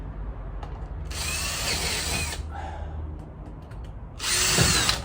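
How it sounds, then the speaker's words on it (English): Power drill boring a hole through rubber for a rivet on a Leyland Atlantean bus, in two loud, high-pitched bursts: a longer one of about a second, a pause, then a shorter one. "just pop a hole in the rubber so that I can get my rivet in"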